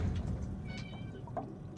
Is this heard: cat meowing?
yes